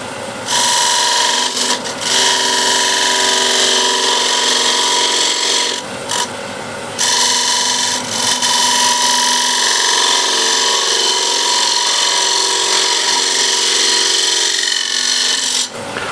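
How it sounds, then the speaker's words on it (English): A small spindle gouge cutting wood on a lathe, a loud, steady, rough scraping hiss that runs almost without pause, with two short breaks where the tool lifts off. "Small spindle gouge and just make a nice clean cut."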